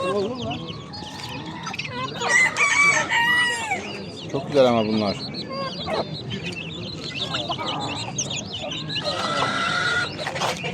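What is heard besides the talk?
chickens and roosters crowing and clucking at a poultry market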